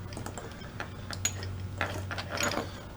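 Channel lock pliers clamp a Christmas light socket onto a wire, making a close series of small clicks and ratcheting metallic snaps over a low steady hum.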